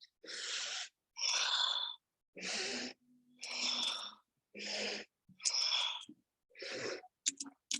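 Forceful yoga breaths alternate in and out in a steady rhythm, eight distinct whooshing breaths close to the listener, separated by brief silences during a Kundalini practice.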